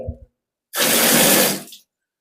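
A bathroom tap is opened after a pipe leak has been fixed, and water gushes out steadily for about a second before it is shut off, leaving silence.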